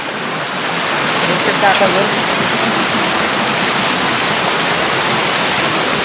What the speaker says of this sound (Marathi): हा बघा मागं धबधबा आहे. ते बघा कसे पडत धडत येतात.